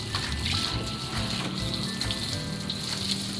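Steady pouring water splashes and hisses continuously over iguanas being rinsed before cleaning, close and fairly loud with no talk.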